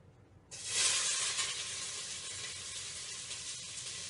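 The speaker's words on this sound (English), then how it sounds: "you saute 1 1/4 cups of chopped onion" Chopped onions hit a hot pot and break into a loud, bright sizzle that stays steady and close, alone without talk.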